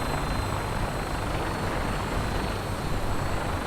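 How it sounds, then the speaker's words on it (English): Engine noise in the video game Fallout 4, heard as a loud, constant droning roar like a helicopter or aircraft engine, with no pauses and no talk. "I don't suppose you could turn that engine off for a while, could you? It's really bloody noisy."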